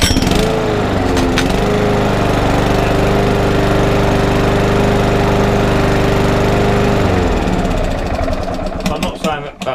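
A free curbside lawn mower with a pull-cord problem fires up after a new spark plug is fitted, running loud and close with a steady throbbing engine note for several seconds before sputtering and dropping off.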